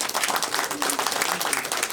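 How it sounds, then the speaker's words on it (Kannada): An audience claps at a Kannada film teaser launch, with brisk, dense clapping throughout as a voice speaks over it. "ಜೋರಾದ ಚಪ್ಪಾಳೆ ಬರಲಿ."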